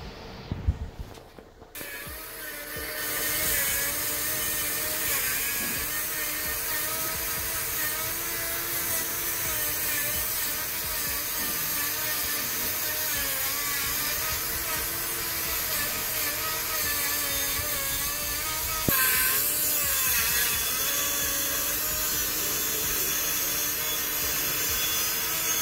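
Power tool cutting off anchor bolts during an ATM installation, a loud continuous grinding whine that starts after a brief quiet moment and holds steady for over twenty seconds, close by and with no speech.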